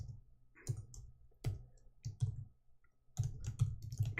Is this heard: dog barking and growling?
no